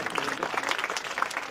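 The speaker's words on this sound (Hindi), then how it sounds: "सभी बच्चों का उत्साहवर्धन करें तालियां बजाकर।" Audience applause at a school annual function honoring children, a steady dense patter of many hands clapping throughout, fairly close and even in level with no talk over it.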